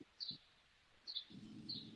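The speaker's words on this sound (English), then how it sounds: "Love hearing the birds chirping still." Birds chirp outdoors in three short, faint high-pitched calls spaced about a second apart, with soft low rustling in between.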